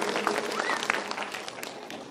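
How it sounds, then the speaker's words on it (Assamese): An audience at a felicitation ceremony claps briefly, a dense patter of hands, moderately loud and continuous through the short stretch. "সকলোৰে পৰা এটি হাত চাপৰি বিচাৰিছোঁ"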